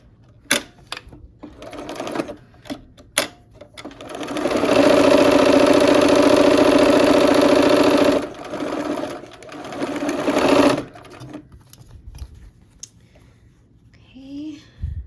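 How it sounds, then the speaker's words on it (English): A sewing machine stitches quarter quilt blocks into a half block in a steady, loud mechanical run of about six seconds. Short clicks and handling knocks come before it, and a shorter second burst follows. "Let's sew these 1/4 blocks into a half block."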